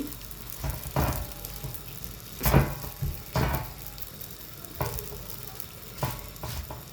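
Veechu roti toasting on a hot pan, a soft continuous sizzle with intermittent scraping and pressing sounds as the flatbread is worked and turned, fairly quiet and close, no talk.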